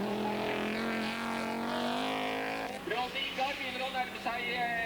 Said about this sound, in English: And cars appearing almost from everywhere here on what is normally a rallycross track here in Norway.